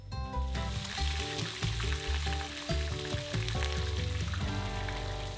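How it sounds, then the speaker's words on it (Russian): Steady, dense sizzling of chicken pieces pressed into a hot frying pan, crackling continuously at close range with a musical tone running underneath. "Выкладываем курицу на сковородку по одной."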